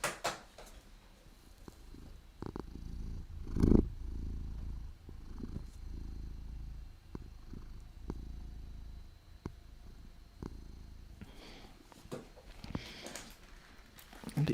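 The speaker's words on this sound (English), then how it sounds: "Trick is to get the mic close enough that you can hear him purr without him eating the mic." A cat purring very close to the microphone, a soft continuous low rumble with occasional faint knocks and rustles, mostly alone with little talk.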